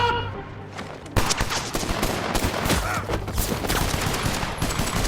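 Dense bursts of gunfire ring out in a film scene where armed men fire on professional soldiers at a dock, with rapid volleys and machine-gun fire sounding loud and close and continuing without a break.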